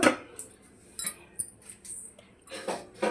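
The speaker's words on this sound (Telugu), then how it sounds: "ఇప్పుడు మనం గిన్నె పెట్టేసుకుందాం" A metal cooking pot set down on a stove with several light clinks and knocks, scattered over a few seconds in a quiet room.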